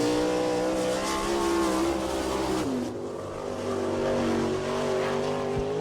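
A sprint car races through a qualifying lap at Attica during All Star Circuit of Champions Ohio Speedweek, its engine roaring loud and sustained with a brief dip in pitch midway as it flies past, no talk over it.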